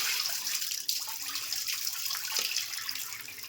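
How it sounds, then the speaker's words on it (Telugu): A tap runs steadily over korameenu fish being cleaned at a sink, a close, continuous splashing wash of water with no speech. "చేపలను క్లీన్ చేస్తున్నాం ఫ్రెండ్స్ మా ఆయన క్లీన్ చేస్తుండే"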